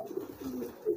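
A pigeon coos softly and close by in a short, low, murmuring run of notes.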